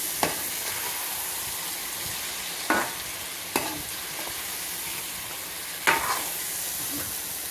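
Food with turmeric and salt stirred around in oil in a pan, heard as a constant close sizzle with a few sharp scrapes and clanks of the spoon.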